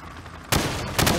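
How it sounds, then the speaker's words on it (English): Hip-fired gunfire at targets in Call of Duty: Modern Warfare, loud sustained bursts of rapid shots, a brief gap, then another burst. "shoot at the targets while firing from the hip"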